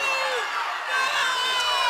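A packed gym crowd at a girls' high school basketball game, North Kitsap against Olympic, roars and shouts steadily after a disputed non-call, a dense sustained wall of voices.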